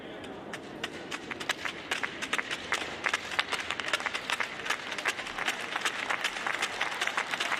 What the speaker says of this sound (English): The players getting a warm round of applause from the home crowd as they make their way off the ice.